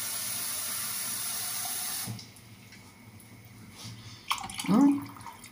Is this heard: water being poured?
yes